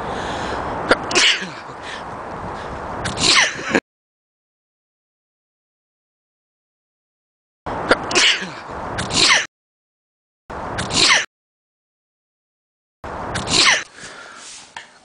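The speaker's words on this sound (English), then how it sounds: "I feel like I gotta sneeze." A woman sneezes repeatedly in bursts, loud and close, with stretches of silence between the sneezing fits.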